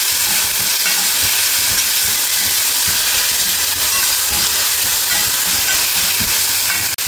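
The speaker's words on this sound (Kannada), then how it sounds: "ಇವಾಗ ಜಿಂಜರ್ ಗಾರ್ಲಿಕ್ ಪೇಸ್ಟ್ ಹಾಕ್ತೀನಿ." Ginger garlic paste frying in a pan for boiled egg masala, a dense steady sizzle and hiss that stays loud and unbroken the whole time, with faint stirring knocks beneath.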